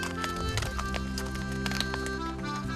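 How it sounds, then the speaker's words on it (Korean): Donkeys carrying loads walk with a quick, uneven clip-clop of hooves on hard ground in Nicaragua, nearby and continuous over a low background murmur. "당나귀의 발걸음에서도 힘겨운 삶의 무게가 느껴지죠"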